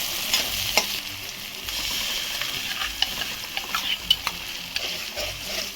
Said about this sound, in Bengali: পেস্ট দিয়ে ভালো করে নেড়ে নেব